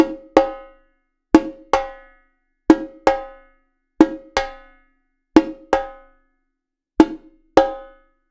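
Sharp, bright rim shots on a samba repique drum fall in quick pairs, a short pause after each pair, repeating evenly six times. Each hit rings briefly and fades, clear and close, with no voices.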